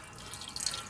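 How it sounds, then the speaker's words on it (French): Hot water running from a kitchen tap into a cooking pot, a steady hissing splash that builds slightly toward the end of a short burst. "Remplis avec de l'eau chaude"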